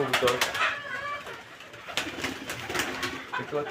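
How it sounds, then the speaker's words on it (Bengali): Pigeons on a house rooftop coo and call in repeated bursts close by, while someone talks over them at intervals. "কবুতর দেখতে পাচ্ছেন কবুতরগুলো"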